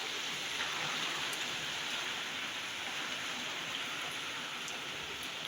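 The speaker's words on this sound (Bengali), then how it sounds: "বৃষ্টি কি বৃষ্টি বাইরে" Heavy rain pours steadily outside, a dense, even hiss that holds at the same level throughout with a few faint drips standing out and no voices.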